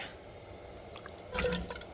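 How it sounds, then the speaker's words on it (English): A quiet background hiss, then a soft wet splash and sizzle as shrimp are poured into a pan near the end. "I'm gonna pour in my shrimp"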